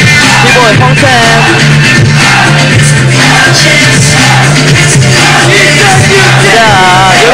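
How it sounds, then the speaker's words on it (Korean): Crowd cheering at a 2006 Armory Cup Korea b-boy breakdance battle, a dense roar of voices loud and close throughout with music and an announcer's voice running underneath. "관객들 환호합니다"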